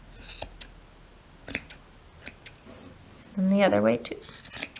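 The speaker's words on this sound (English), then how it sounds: "you could take your scissors and just trim down a little bit so they're all the same" Scissors trim yarn tails on a handmade yarn bird, giving a short crisp snip or two amid soft handling sounds, while someone speaks briefly over them.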